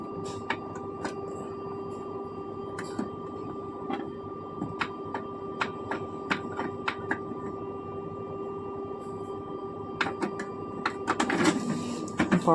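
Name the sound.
Canon printer printing a copy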